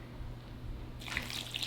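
Cooking liquid from slow-cooked neck bones pours out of a bowl, starting as a low background hum and then turning into a sudden splashing trickle in the last second.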